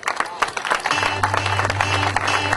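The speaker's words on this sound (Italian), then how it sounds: "io farei un applauso a Domenico Izzotti" Audience applause at an Italian football awards evening, steady broadband clapping from a crowded room filling the whole stretch, with a low steady hum running beneath from about one second on.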